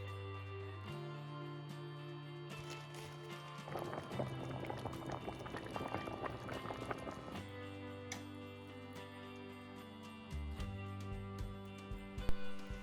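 Ravioli soup bubbles in a pot on the stove, a soft steady rolling boil with dense popping in the middle stretch, over a low constant hum, with light clinks near the end.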